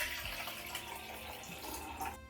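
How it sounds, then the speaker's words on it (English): Distilled water pours steadily into a heat-safe container while making homemade lotion, a continuous close trickling splash that stops abruptly near the end, with no talking. "we're gonna go ahead, we're gonna add our distilled water."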